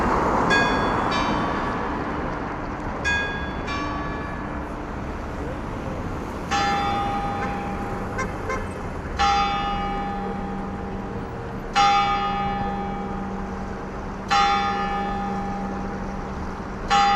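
Church bells strike during a Sunday night walk in St Petersburg, Russia: several ringing chimes followed by evenly spaced, resonant bell strokes every few seconds over faint street ambience, with occasional distant voices.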